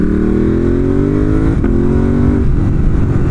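A 2018 Ducati Monster 1200 S engine pulling through suburban streets, a rising throttle note with a quick shift break, then a lower steady rumble, loud and close from the rider's position.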